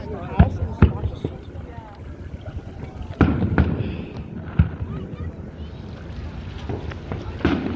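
Amateur fireworks going off near water in Antioch, California, give sharp pops and bangs at irregular intervals, some close and loud, with people talking throughout.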